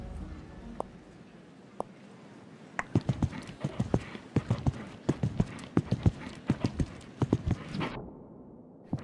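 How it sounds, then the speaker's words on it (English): Horse hooves clip-clopping on a show jumping arena surface, a brief faint pair of steps and then a quicker, steady rhythm of loud hoofbeats over background murmur, ending abruptly. "Next rider entering the arena is Gaiangelo Torino"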